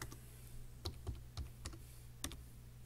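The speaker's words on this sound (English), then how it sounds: "I'm going to type live." Quiet computer keyboard typing, a scattered run of soft individual key clicks at an uneven pace, close and alone with no talking.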